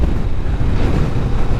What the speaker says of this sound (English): It's because this wind